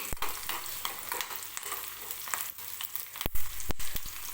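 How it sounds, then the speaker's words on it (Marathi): Onion, green chili and garlic frying together in a pan for a coconut-tomato chutney, a close, steady sizzle broken by several sharp scraping stirs, no voices. "कांद्यासोबतच हिरवी मिरची लसूण वगैरे टाकला तर व्यवस्थित भाजून जातं"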